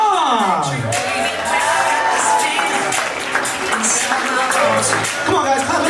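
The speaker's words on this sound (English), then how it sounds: "I want everybody to clap those hands for me." Wedding guests clapping and cheering at a reception, a steady wash of applause and crowd noise with whoops, while an amplified voice talks over it.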